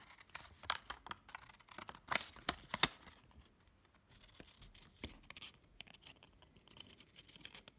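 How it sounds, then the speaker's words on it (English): Scissors snip carefully through paper to cut out a small beak shape, giving a cluster of sharp close crisp snips early on, then softer scattered rustles and scrapes, quiet with no talking. "I'm just going to show you how I very carefully cut the beak"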